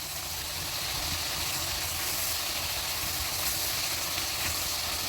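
Chickpeas for Lahori chanay fry in a pan with salt and black pepper, giving a steady, loud, close sizzle and hiss that holds evenly throughout, with no speech.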